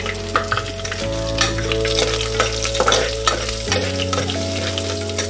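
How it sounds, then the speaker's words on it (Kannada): Ground green chili and ginger paste fries with curry leaves in a pan, a steady close sizzle broken by stirring scrapes, with a constant humming drone underneath and no talking. "ಕರಿಬೇವು ಹಾಕಿದ ಮೇಲೆ ಇದು ಮಿಕ್ಸಿ ಮಾಡಿದ್ದನ್ನು ಇದರೊಳಗೆ ಹಾಕ್ಕೊಳ್ಳಿ. ಅದನ್ನು ಸ್ವಲ್ಪ ಫ್ರೈ ಮಾಡಬೇಕು"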